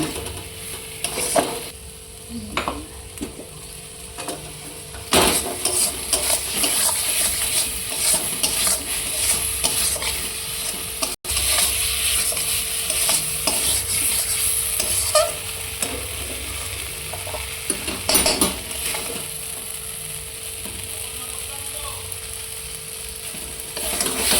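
Chicken liver sizzles steadily in a pan while a utensil stirs and scrapes through it in irregular bursts, the frying hiss running close and continuous with no talk.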